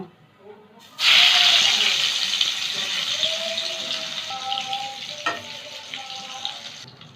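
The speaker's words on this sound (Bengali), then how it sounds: "বাকি পটলগুলো ভেজে নেব" Salted, turmeric-coated pointed gourd (potol) pieces frying in hot oil in a home kitchen, a steady loud sizzle starting abruptly and continuing with light stirring and a few utensil knocks.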